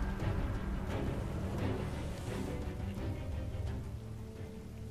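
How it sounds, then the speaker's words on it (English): Rain falls steadily in the video game Hand of Fate, a soft, continuous patter that stays fairly quiet throughout, with no voices over it. "I like how the rain is looking like little meteor strikes"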